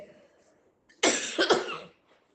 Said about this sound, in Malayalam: അതിനകത്തൊരു ചെറിയ ചുമയൊക്കെ വന്നു